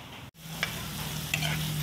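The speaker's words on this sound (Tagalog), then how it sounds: "Ipapakita ko sa inyo yung ginigisa ko." Chopped ginger sautéing in a pan for arroz caldo, a soft, steady sizzle with a brief stir and faint clinks, heard close and quiet with no voices.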